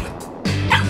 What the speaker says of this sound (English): This doggy needs our help!